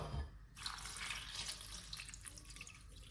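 A tap turns on and water runs steadily into a container holding juice ingredients, a continuous splashing rush with no voices.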